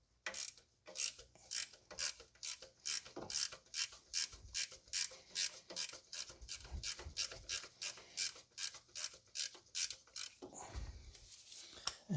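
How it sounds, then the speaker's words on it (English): A ratchet clicks rapidly and steadily while loosening the alternator bolt on a 2010 Toyota Corolla 1.8, close up and alone, with a short clunk near the end. "So we're going to loosen up the alternator."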